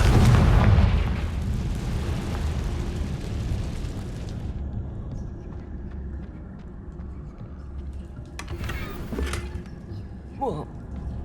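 A Confringo spell explosion in the video game Hogwarts Legacy: one heavy boom at the start, then a long rumbling decay, with a few small crackles and pops near the end.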